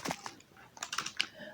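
Quick bursts of typing on a computer keyboard, a rapid irregular run of close clicks with short pauses, fairly quiet and without any speech.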